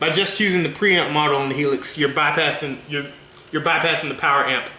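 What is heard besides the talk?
No distinct noise like a dog, phone or traffic.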